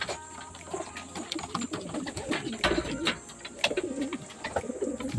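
Racing pigeons arriving home at the loft after a derby training flight, soft cooing and fluttering close by over a steady background hum, no talking.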